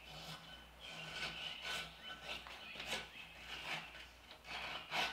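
Quiet, rhythmic rasping strokes as a new sanding sheet is trimmed against the edge of a disc sander in a knifemaking shop, several short scraping passes in a row.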